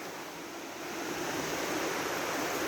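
Certified trout creek flowing past a campground property, a steady broadband rush of running water, fairly faint and continuous throughout with no voices.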